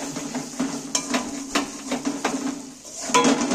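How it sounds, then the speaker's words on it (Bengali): Spice mix being stirred in a pan for a fish-oil curry: repeated scraping clinks and taps of a spoon against the metal pan, moderately loud and close, with no talk. "এইবার আমি মশলাটা একই সাথে নেড়ে দিচ্ছি"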